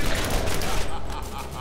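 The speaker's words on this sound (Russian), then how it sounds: "тут есть пушка, пушка, пушка еще. Она еще немножко поработает." A turret gun fires in the Borderlands video game, a loud, dense burst of rapid shots that runs almost unbroken and eases slightly toward the end.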